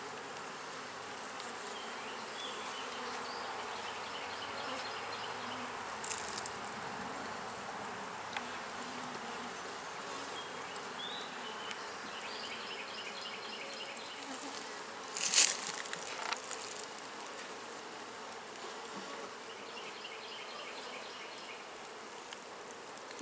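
Honeybees buzz steadily around hive frames full of brood during spring hive inspection, a dense continuous drone with a few brief bumps and handling knocks, close and moderately loud throughout.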